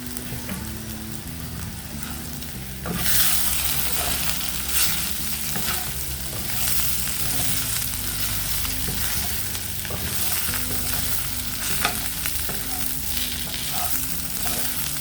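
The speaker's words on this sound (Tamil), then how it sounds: "இதை சேர்த்து ஒரு 2 நிமிஷம் மட்டும் நம்ம கிண்டிக்கலாம்" Brinjal fry with ground peanut powder is stirred in a hot pan. A quieter start gives way to a loud, continuous, rain-like sizzle, with scraping spatula strokes heard through it.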